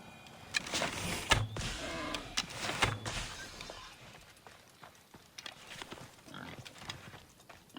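Pig grunting in Assassin's Creed Odyssey, a series of short snorts and grunts at close range over ambient game sound, with some thumping footsteps, and no talk.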